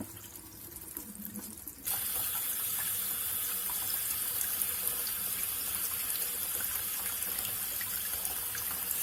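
Tap water runs steadily through an instant electric water heater at a sink, a quiet trickle that jumps to a stronger, constant rush partway through after the flow is increased.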